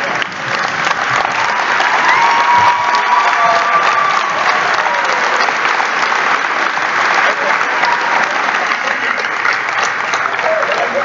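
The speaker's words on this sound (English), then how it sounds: "I would greatly appreciate it if everybody in here would stand up and give these 2 parents a round of" An indoor audience stands and gives two parents a sustained round of applause, dense, loud clapping with faint crowd voices mixed in, steady throughout.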